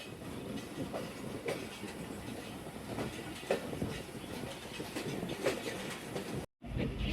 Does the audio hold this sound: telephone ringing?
no